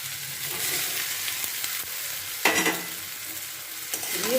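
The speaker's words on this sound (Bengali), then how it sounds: "এবার আমি ভেজে রাখা ডিমটাকে ওর সাথে দিয়ে দিচ্ছি" Fried eggs being stirred into reddish fried onions for a Bengali-style egg curry, a soft continuous sizzle with scraping stirs of a spoon against the pan, close and moderately quiet.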